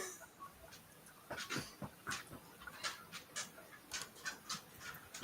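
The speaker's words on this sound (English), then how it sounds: "One of my dogs Feels- is trying to see what's going on." A pet dog snuffles and pants softly nearby in a quiet room, with short rhythmic breaths and faint whimpering sounds and no talking.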